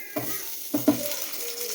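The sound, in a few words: frying garlic, ginger, onion and tomato in a pan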